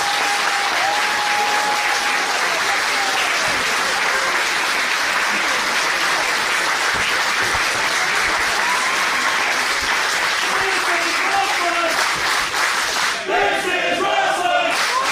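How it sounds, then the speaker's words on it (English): Dense, loud crowd noise from an independent pro wrestling audience at an IWTV World Title match, steady cheering and applause with shouts and whistles rising over it throughout. "Listen to this crowd."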